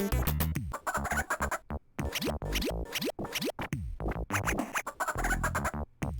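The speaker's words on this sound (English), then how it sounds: "And we've got chickens," Chickens cluck in the Toejam & Earl video game, a busy run of choppy, repeated game-style clucks with sliding tones and short pauses between bursts.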